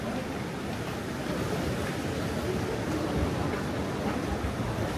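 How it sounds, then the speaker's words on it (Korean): Heavy surf pounds the rocky coast near a suspension bridge at Samcheok in rough, stormy weather, a dense continuous roar of breaking waves with no talk. "역시나 파도가 장난 아니네요."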